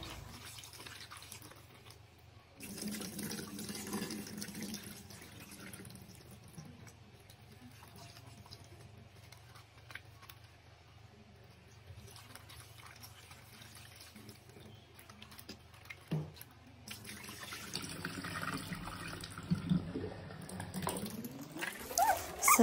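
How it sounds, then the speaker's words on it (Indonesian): Tap water runs into a sink while vegetables are washed, a quiet continuous splashing that swells louder partway through and again near the end. "Setelah itu, lanjut kita cuci sayurannya."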